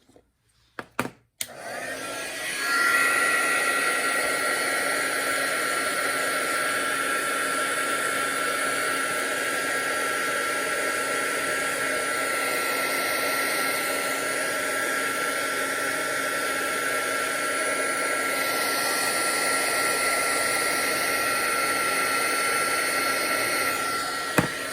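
A heat tool or dryer blows steadily to dry freshly stamped ink in a black ice stamping technique, starting after a few clicks and running as an even, loud whooshing roar for over twenty seconds with no talk.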